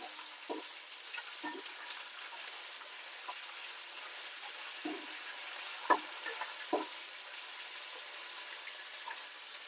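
Ginger-garlic paste fries in oil while being stirred for coconut rice, a soft steady sizzle with occasional light spoon scrapes and taps, close and fairly quiet with no talking.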